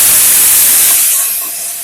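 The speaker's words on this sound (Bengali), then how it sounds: "যেটাতে আলু ভেজেছিলাম ওই তেলের মধ্যেই এবার এঁচোড়গুলোকে একটু ভেজে নেব।" Jackfruit pieces fry in hot oil left from frying potatoes, giving a loud, close, steady hiss that eases off slightly toward the end.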